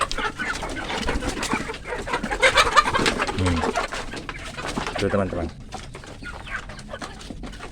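Chickens cluck and peck at their food and water in a coop, with busy, overlapping bird calls and a cooing note heard close by while a person talks over them.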